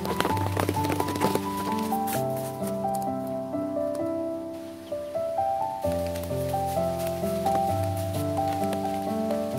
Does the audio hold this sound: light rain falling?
yes